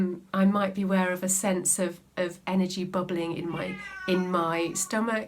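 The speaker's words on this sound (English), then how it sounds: "Excuse my cat." A cat meows indoors several times while a person keeps talking calmly, its cries mixed in with the steady voice.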